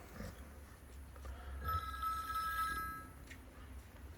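A faint telephone rings once, a thin electronic tone rising from a quiet, noisy background.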